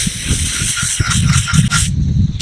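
Brake parts cleaner sprays from an aerosol can in short bursts, a loud close hiss that stops and restarts a few times before a final blast, with no talking.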